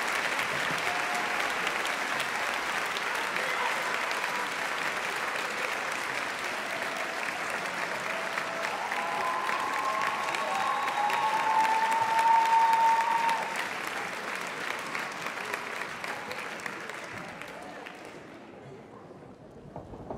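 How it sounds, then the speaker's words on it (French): Sustained applause from an audience greeting the jury at a virtual fashion show, a dense, even clatter of many hands lasting about twenty seconds, briefly swelling midway before thinning and fading out at the end. "je pense que vous pouvez les applaudir, Séverine et le jury."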